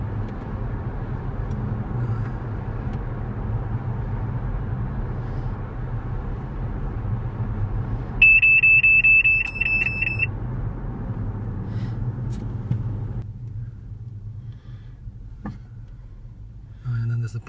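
Inside a 2014 Tesla Model S, the Mobileye collision warning sounds as a loud, rapid electronic beeping that lasts about two seconds. A steady low road and engine rumble runs underneath, and the driver talks throughout.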